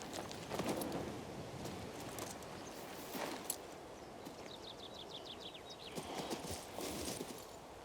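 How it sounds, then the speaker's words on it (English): Horse hooves clip-clop at a steady walking pace in the fantasy video game King's Bounty II, moderately close amid busy game ambience, with brief chirping bird calls partway through. "Horse."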